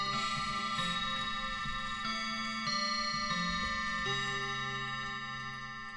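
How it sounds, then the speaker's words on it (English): A Foreign Double Chime Model clock ticks steadily up close, its even, unbroken rhythm running alone with no voices. "we got the Foreign Double Chime Model Clock here"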